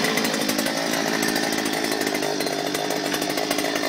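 A Stihl BT 121 earth auger's small two-stroke engine idles close by, a steady, buzzy rattling drone with a fast even pulse and no talking.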